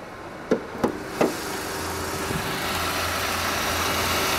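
A Mercedes CLK's engine idles with a steady low hum throughout, preceded by three sharp knocks or clunks near the start.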